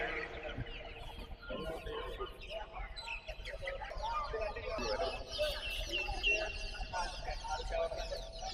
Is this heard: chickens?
yes